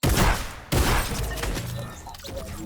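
Rapid bursts of gunfire from a scar assault rifle in the video game Fortnite, two sharp loud volleys close together followed by fading echoing shots.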